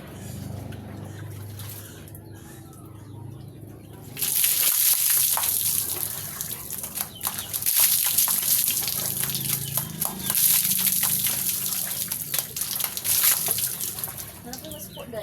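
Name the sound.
water running while bathing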